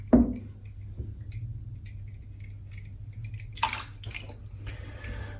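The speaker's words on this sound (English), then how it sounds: "Rinse the brush out." A shaving brush rinsed under a bathroom sink tap: a faint trickle of running water with a soft splash at the start and a louder gush of water midway, close and quiet, no voices.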